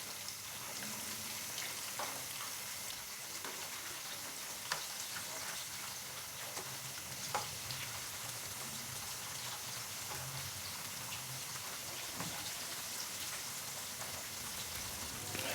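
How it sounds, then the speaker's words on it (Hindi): Fish pieces fry in oil over a medium-low flame, giving a dense, even crackling hiss that runs steadily without pause, close but fairly quiet, with occasional faint pops and no voices. "तो हमने इसको मीडियम से लो फ्लेम पे 7 से 8 मिनट या 10 मिनट के लिए अच्छे से फ्राई कर लेना है"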